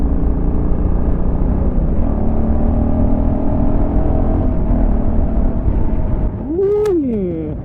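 A Honda CRF1100L Africa Twin DCT adventure motorcycle from 2022 runs steadily on a test ride in the Serra da Estrela mountains, a loud continuous engine drone with a rising-and-falling rev near the end.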